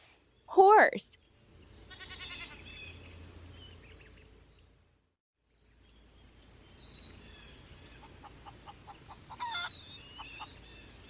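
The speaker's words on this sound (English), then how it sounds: "Goat." Goat bleating from a children's farm animals sound book: a sharp, loud bleat opens the clip, followed by quieter overlapping animal cries and chirps against a soft background.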